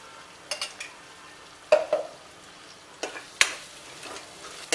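Tomatoes with sautéed spices and a little sugar cook in a pan, a soft low sizzle broken by a handful of sharp spoon scrapes and clacks against the pan.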